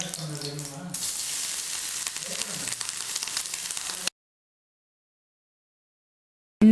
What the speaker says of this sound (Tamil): ஒரு அரை மூடி தேங்காய் வந்து கொஞ்சமாக நெய் சேர்த்து நல்லா வறுத்து எடுத்துக்கோங்க